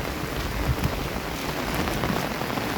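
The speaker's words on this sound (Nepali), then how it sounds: "पानी यस्तरी पानी भनेको यस्तरी परिरहेको छ" Heavy rain pours down in a steady, dense hiss with no break, close and loud, and no voices are heard.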